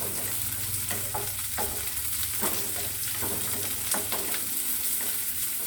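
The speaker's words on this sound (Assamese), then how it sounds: "এতিয়া পিঁয়াজখিনি অকণ ভাজি লওঁ।" Onions fry in a small amount of oil for a papaya and curry-leaf chicken curry, a steady close sizzle broken by the periodic scrape of a spoon stirring the pan.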